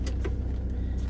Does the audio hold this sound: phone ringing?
no